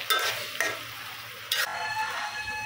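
Taro leaves frying with lemon leaves in a pan, a steady close sizzle broken by three sharp scraping stirs of a spatula, with no talking.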